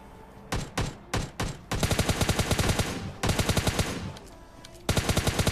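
Gunfire in the mobile game PUBG Lite: loud, close automatic bursts, first a few short separate volleys, then long rapid strings of evenly spaced shots with brief pauses between them.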